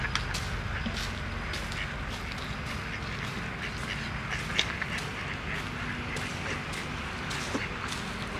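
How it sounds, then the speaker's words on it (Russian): Ducks quack faintly on a pond in Peterhof on a November walk, their scattered calls distant under steady outdoor noise and footsteps. "Уточки на пруду."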